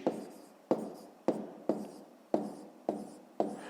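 Chalk tapping and scraping on a school board as numbers are written for a fifth-grade maths exercise, seven sharp strokes in an even rhythm, each starting with a crisp knock and fading, close and alone.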